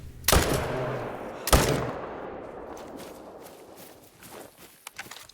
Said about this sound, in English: it's amazing how quickly 2 shots can take that down